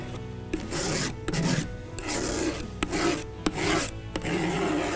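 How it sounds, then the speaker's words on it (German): A spatula spreading light structure paste through stencil holes, a series of close, rasping scrapes and rubs in repeated strokes with brief pauses between them. "trage diese jetzt durch die Löcher hindurch mit einer Spachtel auf"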